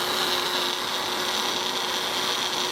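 A blender purees onion with a loud, steady, high-pitched motor whine, running continuously and close up with no voices.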